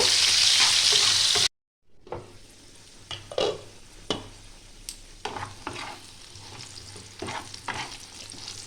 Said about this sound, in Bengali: একটু হলুদ দিয়ে দিলাম, দিয়ে একটু লাল লাল করে আমি ভেজে নেব।